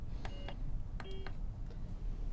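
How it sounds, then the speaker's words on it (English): Telephone keypad tones dialed slowly by hand, a few separate beeps spaced apart over a steady background hum, fairly faint with no talk. "I dialed so slowly."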